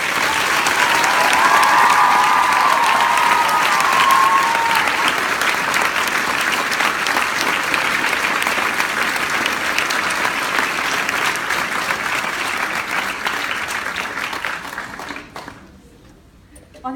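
Sustained applause from a school audience following the school captain's final address, dense and steady for most of the stretch before tapering off and dying away near the end.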